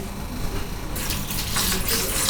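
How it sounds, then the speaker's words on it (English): Water is poured into a container while measuring it for cold process soap making, a soft splashing trickle that grows into a fuller gushing stream partway through, close by and without talk. "Take it up to 550 grams of water"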